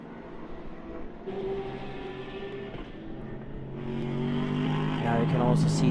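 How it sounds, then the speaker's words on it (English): GT endurance race cars roar past at Autodrom Most, their engine noise swelling into a sustained, rising drone, while a commentator talks over the top. "Now you can also see the other cars racing through and towards the opening corner."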